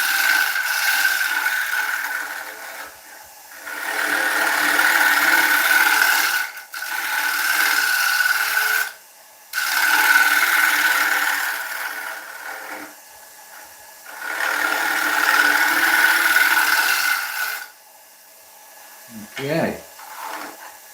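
A round carbide cutter scrapes a wooden bowl spinning on a woodturning lathe, giving a steady rasping hiss in long passes broken by short pauses, close and loud with no talk over it, ending in a brief clatter.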